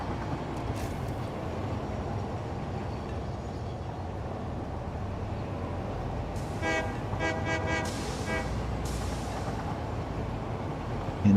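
A train horn in the video game Satisfactory sounds in a series of short, evenly pulsed toots midway through, over a steady low rumble of machinery and ambient game noise, with no talking.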